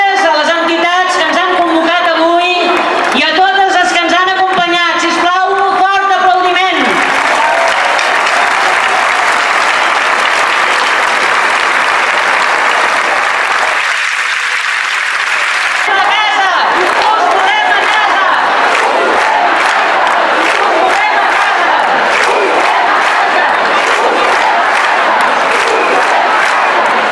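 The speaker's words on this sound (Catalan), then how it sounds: "un fort aplaudiment" Sustained loud applause from a rally crowd, mixed with cheers and shouts, swelling after a spoken introduction and holding steady to the end.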